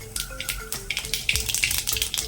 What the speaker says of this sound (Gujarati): તેલ ગરમ થઈ ગયું છે હવે આપણું એમાં ધાણા રાઈ જીરું નાખી દઈએ આપણે